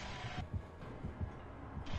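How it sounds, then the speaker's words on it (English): The killer's heartbeat in the video game Dead by Daylight thumps low and steady in a quick doubled rhythm, faint beneath a muffled ambient hum, with no speech. "I hear the heartbeat."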